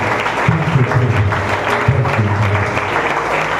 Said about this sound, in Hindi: जोरदार ताली बजा के परमेश्वर की महिमा करें